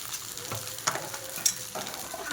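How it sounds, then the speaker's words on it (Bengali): Egg frying in a pan, a soft steady sizzle with a few brief clinks of stirring, close and moderately quiet. "তো চলো ডিমটা ভেজে নিই,"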